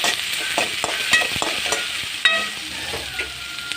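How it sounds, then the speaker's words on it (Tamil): Onions and cashews sauté in a pan for cauliflower gravy, giving a constant close sizzle with repeated scraping stirs and a few sharper metallic knocks. "அதை போட்டு நல்லா வதக்கி எடுத்துக்கோங்க இது நல்லா வெங்காயம் நல்லா வதங்கட்டும்"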